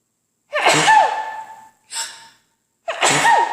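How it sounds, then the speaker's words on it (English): A woman sneezes loudly and close by at a knitting podcast recording, a sharp gasping burst, then a brief second breath, then another forceful sneeze, with no other sound in the silence between. "so you got to hear me sneeze"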